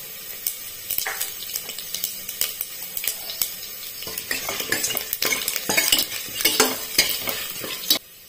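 Cumin, pepper and ginger splutter and crackle in hot oil in a pan while making millet pongal, a busy dense sizzle with scattered sharp pops and stirring clatter, continuous and close throughout.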